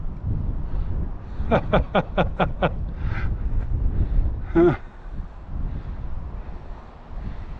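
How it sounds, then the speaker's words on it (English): Strong wind buffeting the microphone outdoors during a Tamiya TT02 RC car speed run, a continuous low rumble throughout, with a burst of sharp repeated clicks and a brief tonal squeal partway through. "It's so windy over here"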